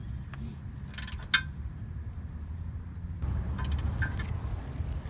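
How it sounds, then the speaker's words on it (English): Bolts on a shock absorber are tightened with a tool that gives off short, sharp metallic clicks and ratcheting bursts in two small clusters, near and fairly faint over a low background hum. "After you finish installing it, then you just want to tighten up the bolts."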